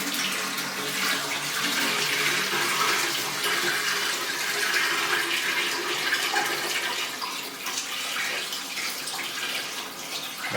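Water poured into a commode's tank, rushing steadily down the fill tube into the bowl in a small barndominium, a continuous close hissing flow that stays loud and even for the whole stretch with no voices.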